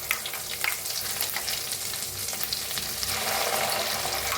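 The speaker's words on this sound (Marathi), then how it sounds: "बघा मस्त असा भाजायला लागलाय मसाला आपला।" Chopped onion, cumin seeds and hing fry in hot oil for an egg masala, a close, crackling sizzle with scraping spoon strokes that swells louder near the end.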